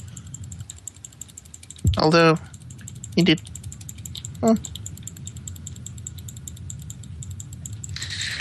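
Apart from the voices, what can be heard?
furious clicking, likely computer keyboard or mouse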